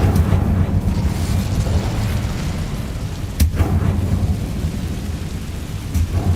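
An Incendio fire spell cast in Hogwarts Legacy makes a loud, sustained roaring whoosh of fire, with low rumbling and a sharper burst partway through.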